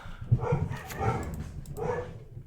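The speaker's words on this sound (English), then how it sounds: "The dogs are going nuts upstairs." Dogs bark and yip upstairs in a house, muffled and somewhat distant, in a few excited bursts with whimpering between.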